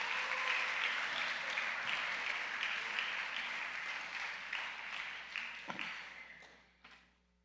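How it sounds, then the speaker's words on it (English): An audience at a Christian academy convocation applauds honor roll recipients, a steady wash of clapping that holds fairly even and then tapers off, with a few stray claps before it dies away. "One large round of applause for all of our honor roll recipients."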